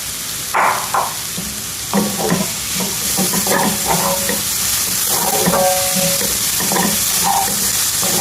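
Corn, carrot and other vegetables hiss in a hot pan while a spoon scrapes and stirs them again and again, making irregular clinks and scuffs over a steady close sizzle.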